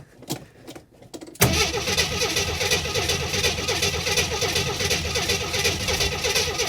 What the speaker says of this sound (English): We're getting a lot of cranking.